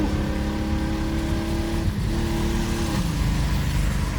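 1994 BMW 325i six-cylinder engine revving at full throttle, a loud sustained close-up roar with a brief dip in pitch midway before climbing again, no talking.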